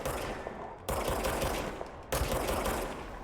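Magic gun firing in the video game Control, three rapid bursts of loud, dense gunfire with a harsh crackling edge, each cut off abruptly, heard close and alone.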